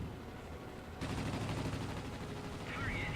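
Aircraft machine-gun fire in the World of Warplanes flight game, a Bristol Type 146 fighter shooting: after a quieter first second, a dense, steady burst of rapid gunfire runs to the end over engine drone.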